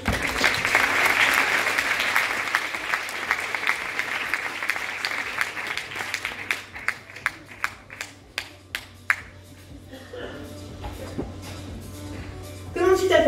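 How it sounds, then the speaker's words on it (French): An audience at a hypnosis show applauds a volunteer: dense sustained clapping that thins into scattered individual claps, fading near the end. "On peut l'applaudir?"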